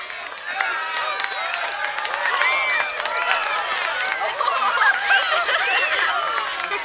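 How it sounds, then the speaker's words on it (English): Crowd applause and cheering in the video game Baldur's Gate 3, a sustained wash of clapping with chatter and laughter mixed in, fairly loud and continuous throughout. "A round of applause for the stalwart heart."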